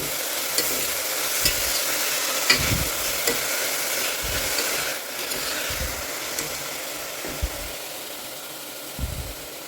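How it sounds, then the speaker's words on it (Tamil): Palak spinach sautéing in a pan with tomato and onion, a steady close sizzle with repeated scraping stirs of a spoon every second or so, no voices. "நல்லா வதக்கிக்குவோம்."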